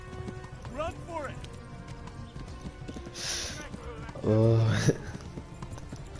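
Horse hooves clip-clop rhythmically in the medieval video game Kingdom Come Deliverance during a fast escape on horseback, with a whinny and a brief low groan, mixed with game ambience and a voice speaking over it.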